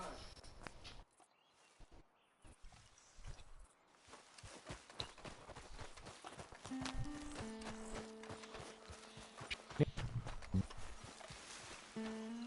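Horse hooves walk in the Red Dead Redemption 2 video game, a steady clip-clop of footsteps running through the scene at moderate level, mixed with faint game ambience and occasional tonal sounds.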